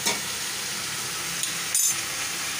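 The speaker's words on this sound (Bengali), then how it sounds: "এবার একটু নাড়িয়ে নি" Ginger and fenugreek being stirred in a frying pan: a steady close sizzle with a few sharp scrapes of the spoon against the pan.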